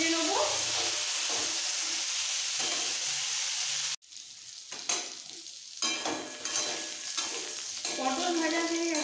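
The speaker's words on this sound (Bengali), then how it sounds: "নুন আর হলুদ দিয়ে একটু লাইট ব্রাউন করে ভেজে নেব।" Pieces of pointed gourd fry in a pan with salt and turmeric until light brown, giving a continuous close sizzle. It briefly cuts out, then returns with scraping stirs and clinks of a spatula over the hissing oil.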